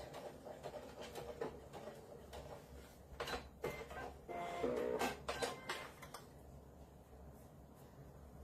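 A domestic sewing machine back-stitching a glasses pod, quick whirring bursts of needle stitching with clicks and pauses between runs, close but fairly quiet.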